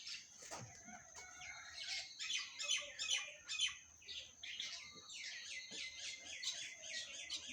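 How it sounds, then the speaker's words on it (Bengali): A large flock of birds gathered in the morning chirps and squawks in dense, overlapping bursts, fairly faint and at a moderate distance, with no voices. "অনেক পাখি এখানে, প্রায় হাজারের উপরে পাখি প্রত্যেক দিন সকালবেলা এখানে জড়ো হয় একসাথে"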